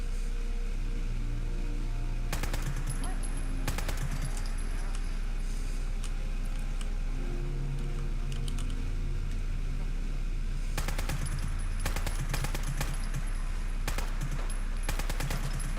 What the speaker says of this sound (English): now I can start shooting them out of hand.